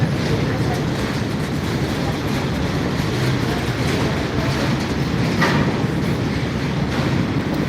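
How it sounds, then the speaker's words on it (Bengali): A freight train rolls through Ghatshila railway station with a steady, loud, continuous rumble and faint wheel clatter, accompanied by some wind buffeting on the microphone. "সব মালগাড়িগুলো দিয়ে দিচ্ছে কিন্তু আমাদের ট্রেনের কোনো হদিশ নেই"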